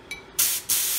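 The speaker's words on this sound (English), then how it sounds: "That's a nice little spray pattern there." A homemade siphon atomizer nozzle for a waste oil burner sprays oil in short bursts: a faint whistle, then two close, loud hissing blasts separated by a short drop in level, with no speech.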